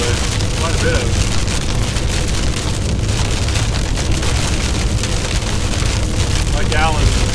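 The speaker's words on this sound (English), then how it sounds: "we definitely have heavy rain and hail" Heavy rain and hail drumming on a vehicle during a severe storm in Castro County near Hart, a loud, dense, continuous roar with a person talking over it.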